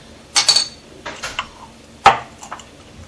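A spoon scoops pre-minced garlic into a bowl for deviled eggs, giving a few light clinks and scrapes of metal against the dish in short separate bursts, close and fairly quiet with no talking.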